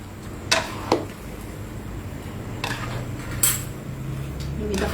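Pots and pans clatter in a kitchen while pancit bihon cooks in a wok, with a few sharp metallic clinks and scrapes spaced over a low background hum.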